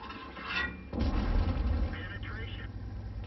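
Tank cannon fire in World of Tanks, a Tier IX M103, booms once loudly close by, with a low rumble that lingers afterward while someone talks over it.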